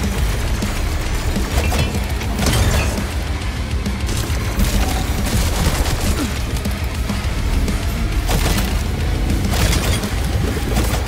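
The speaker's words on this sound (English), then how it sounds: "Who is shooting at me?" Gunfire in Atomic Heart, a dense, loud, unbroken barrage of shots and booming impacts that carries on steadily, with crashes layered on top throughout.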